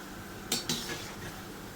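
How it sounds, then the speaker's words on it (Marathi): Metal slotted spoon clinking against a pan while sweet wheat-flour dough pieces fry, two brief scraping clatters over a quiet steady sizzle. "झाऱ्याने आपण हे करत राहायचं, हलवत. अशा सगळ्या आपण तळून घ्यायच्यात"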